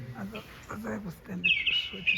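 A small bird chirps in short, bright bursts during a school play, rising over a person's speech in the second half and fairly close.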